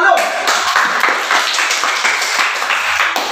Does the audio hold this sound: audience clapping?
yes